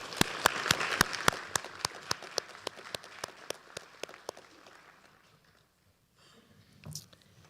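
At a Rotary District induction ceremony for EarlyAct and Interact clubs, an audience applauds with crisp, close claps and a few loud standout hands, fading steadily over several seconds into near silence before a brief rustle.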